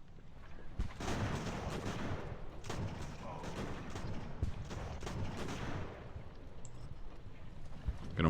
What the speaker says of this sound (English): There's artillery back there.